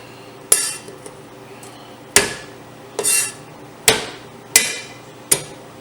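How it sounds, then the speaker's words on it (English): Slices of ginger for a Thanksgiving holiday jook are struck with sharp blows, six or so distinct whacks with gaps between them, loud and close, with no talking. "what we're going to do with this is just smash it"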